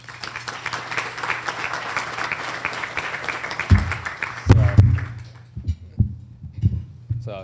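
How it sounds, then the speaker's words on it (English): Applause from a club luncheon audience in Manatee County, a steady crowd clapping for about four seconds that fades out, followed by thumps and handling noises near a microphone. "Please give a round of applause for George Cruz."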